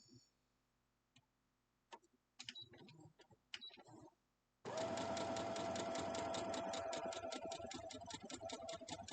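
A sewing machine stitches a quilt block in a fast steady run of needle clatter after a few faint clicks and fabric handling sounds, fairly close and continuing to the end.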